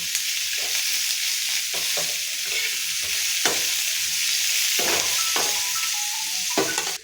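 Onion frying gently in a pan for a pea and paneer curry, a steady soft sizzle throughout with occasional sharp scrapes and clicks of a spoon stirring against the metal.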